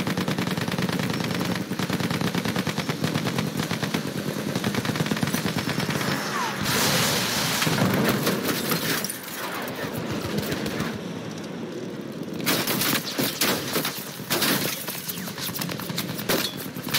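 Sustained rapid machine gun fire from an enemy aircraft in Battlefield 1 during an air raid, dense continuous rattling bursts with dull booms and battle clamor throughout, loud and close.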